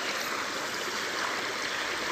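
River water rushes and burbles steadily while someone wades across a river, a broad, continuous flowing wash up close with no talk over it.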